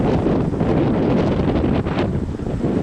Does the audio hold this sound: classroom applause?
no